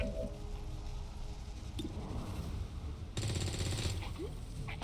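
Gunfire in the XCOM 2 Warhammer 40k mod, a video game: continuous dense, noisy bursts of automatic fire and impacts, swelling louder partway through over a steady battle din.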